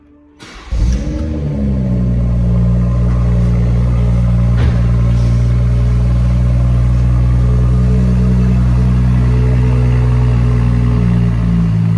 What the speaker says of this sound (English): Distinct sound from that straight six engine.